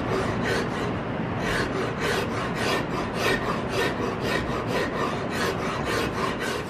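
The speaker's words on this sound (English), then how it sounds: "I'm trying to keep as much of this rasp in contact with the stock at all times" Close, loud hand rasping on a wooden gun stock from a Gemmer Hawken rifle kit, the rasp kept in full contact as it scrapes in quick, regular strokes, about two per second, with no voices.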